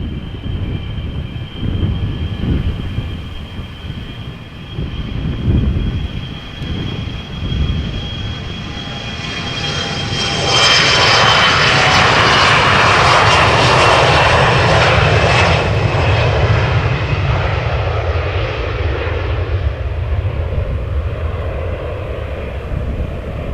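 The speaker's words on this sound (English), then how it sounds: "CRJ SAS outbound to Copenhagen, spooling up already" An SAS CRJ spools up its jet engines for takeoff at Amsterdam Schiphol, a whining tone over rumble that builds into a loud, broad roar and then eases slightly, heard up close without talk.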